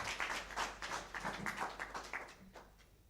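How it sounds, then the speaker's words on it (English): Audience applause at a Kenya roadshow event, a faint, steady patter of many hands clapping that fades toward the end, with no talk over it. "Let's give a round of applause."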